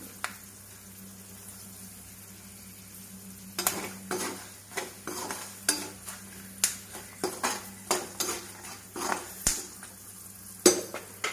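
Homemade poha namkeen being fried and stirred in a pan: a low quiet sizzle, then a run of regular scraping and clinking spatula strokes against the metal pan over the second half.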